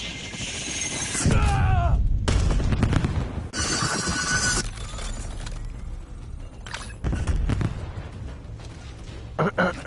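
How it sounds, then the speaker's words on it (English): Enemy gunfire and explosive bursts from a video game, with loud booming shots and shattering impacts arriving in clusters over a steady noisy backdrop, close and dense. "Enemy might be shooting."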